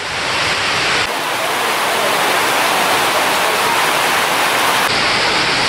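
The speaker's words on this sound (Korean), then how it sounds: "산페드로 시장 지붕으로 비가 새어 들어와요." Rain leaks through the roof of San Pedro market in Cusco, making a loud, steady rushing hiss of falling and splashing water that holds throughout with no voices.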